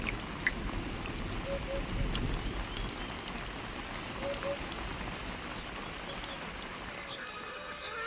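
Rain falls steadily during a drought in crocodile country, a dense, even patter of drops that fills the whole stretch at moderate loudness.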